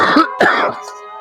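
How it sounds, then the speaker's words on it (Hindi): A person nearby coughs twice in quick succession, rough and throaty, followed by a faint hum. "खांसी आ रही है आपको?"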